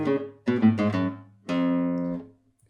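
Scale practised in a two-note rhythm on a piano-like instrument, short grouped notes then a longer sustained tone, clear and close.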